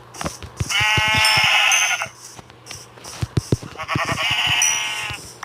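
Sheep in the Minecraft video game bleat in two long, wavering calls separated by a short gap, loud and close, with clicking game sounds between them.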